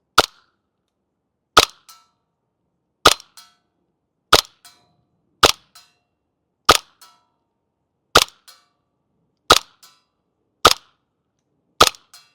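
A G&G SMC9 airsoft gun fires outdoors as about nine sharp, loud single cracks spaced roughly every second and a half, each trailed by a faint smaller click or echo, with no talking.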